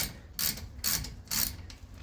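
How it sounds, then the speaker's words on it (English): A wrench works loose the bolts on a Dodge disc brake caliper, giving three loud ratcheting bursts at an even pace with short quiet gaps between them, plus a fainter fourth pass at the end. No voices are heard. "So we're going to see if we can actually break these bolts loose."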